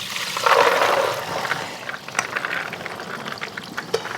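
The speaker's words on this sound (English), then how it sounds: "So I'm just going to dump this soaking water with the soda" Soda soaking water poured off 20-year-old pinto beans into a colander, a loud rushing pour at first that tapers into trickling and scattered drips.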